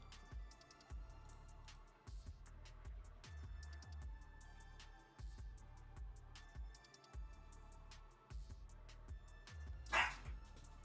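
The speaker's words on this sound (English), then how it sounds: "what are you barking about?" A pet dog indoors barks repeatedly in short bursts at a fairly low level, with a sharper, louder yelp near the end.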